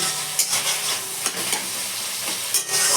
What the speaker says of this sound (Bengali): এবারে একটু হলুদ দেবো গুঁড়ো লঙ্কা দেবো না যেহেতু কাঁচা লঙ্কা দিয়েছি ভালো করে মশলা কষিয়ে নেব